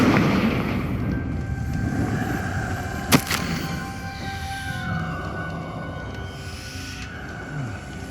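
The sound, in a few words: Confringo fire-blast spell explosion in the video game Hogwarts Legacy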